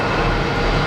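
A jet airliner climbing out after takeoff at Boston Logan Airport, heard as a steady, loud broadband engine roar that holds without a break for the whole moment.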